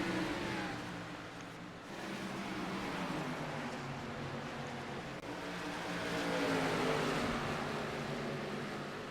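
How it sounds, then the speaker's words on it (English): Race cars at Iowa Speedway during the Southern Country Co. 100 roar on track as a continuous distant wash of engine noise, swelling and fading slightly. "Just listen to them rail on the throttle, man."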